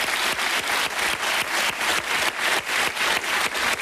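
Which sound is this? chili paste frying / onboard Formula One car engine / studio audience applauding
studio audience applauding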